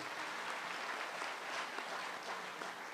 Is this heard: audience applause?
yes